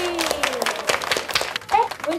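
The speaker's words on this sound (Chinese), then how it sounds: "再掌声鼓励鼓励" An audience claps at a Taiwanese glove puppetry (budaixi) show honouring a young puppeteer, a short burst of scattered hand claps mixed with voices speaking over it.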